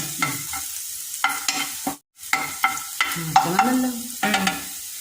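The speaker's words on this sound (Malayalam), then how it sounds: "ഇതെല്ലാം കൂടെ നല്ലോണം ഒന്ന് മിക്സ് ചെയ്യണം." Leftover idli upma ingredients with ginger are stirred and mixed in a frying pan: repeated close scraping strokes over a light sizzle, with one brief pause partway through and no talking.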